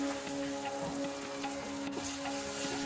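Spices and kasuri methi leaves frying in a pan over medium heat, giving a soft, continuous crackling sizzle with faint scattered pops and a low steady hum beneath.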